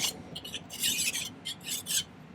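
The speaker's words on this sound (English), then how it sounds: "so I file it" Hand file rasping against a silver ring in short, steady back-and-forth strokes, close by and alone.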